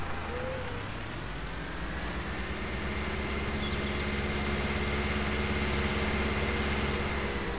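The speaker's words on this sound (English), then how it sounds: "I like it, it's got a nice engine sound." A working vehicle's engine idles and runs in a video game mod, a steady low droning rumble that gradually rises slightly in pitch and holds at moderate level throughout, with no talk.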